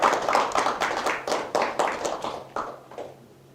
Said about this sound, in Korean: 큰 박수로 감사 말씀드립니다